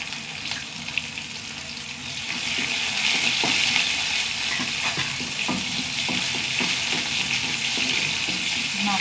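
Curry leaves and dried red chillies fry in hot oil, crackling and sizzling steadily up close, with occasional stirring scrapes and the sizzle growing louder partway through.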